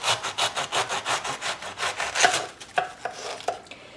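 Kitchen knife chopping washed store-bought cabbage into small pieces on a cutting board: a quick, steady run of close, crisp strokes, then a few slower, separate cuts, with no talking.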